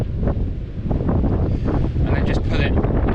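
Gusty wind buffets the microphone during a cold January bass lure-fishing outing, a steady loud low rumble throughout, with faint water or boat noise underneath.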